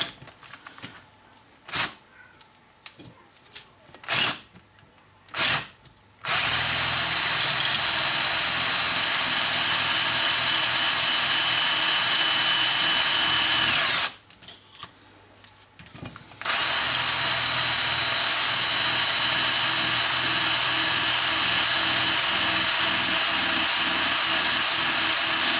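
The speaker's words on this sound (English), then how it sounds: "I'm drilling at the top edge of the hole there" A power drill whirs in short bursts, then runs continuously and loudly for long stretches with a brief pause in between, close up, drilling through a Volvo brake caliper.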